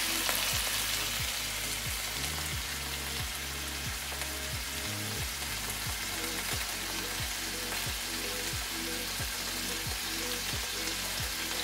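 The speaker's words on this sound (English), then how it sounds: "So I'm cooking my, just a little peppers and jalapenos" Peppers and jalapenos sizzle steadily in a pan, a loud, continuous frying hiss close by with regular soft stirring knocks, no talking.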